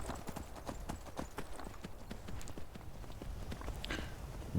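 Hooves clip-clop steadily as a horse is ridden in a video game, a close, even rhythmic trot that continues throughout with a faint snort near the end.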